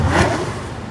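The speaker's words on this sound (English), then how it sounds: "you're losing my like for your car with the revving" Car engine revving at a cars and coffee meet, a loud, close, sustained rumble that swells early and holds steady through the second.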